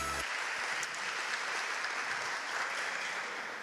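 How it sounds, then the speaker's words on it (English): A round of applause at a scholarship event as honorees take their seats, a fairly faint, even wash of many hands clapping from a distant crowd, steady throughout after a brief opening thump. "Let's give them a round of applause as they take their seats"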